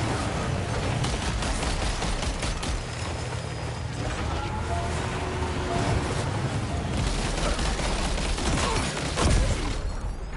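Sustained gunfire in Death Stranding 2: On the Beach crackles as a dense, steady stream of shots, loud and close throughout with a sharper burst near the end.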